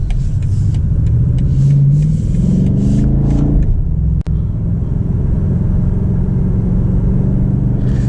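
2023 BMW M8 Competition Convertible on a road drive, its engine rumbling loudly and closely, rising in revs before a sharp downshift blip and settling back to a steady drone, with no talking.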